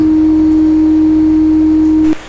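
A loud, steady mechanical hum from an air conditioner compressor low on refrigerant drones close by, then cuts off abruptly near the end.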